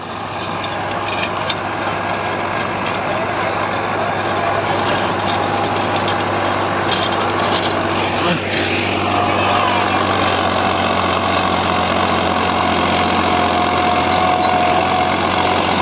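A Massey 9563 tractor engine idles smoothly under light load with a constant low hum and mechanical clatter, running continuously without revving throughout.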